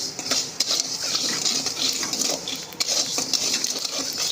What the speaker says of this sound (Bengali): শুকনো খোলাতেই এটা একটু নেড়ে ছেড়ে ভাজা করে নিচ্ছি।